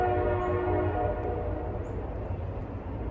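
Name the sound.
cargo train passing on nearby railway tracks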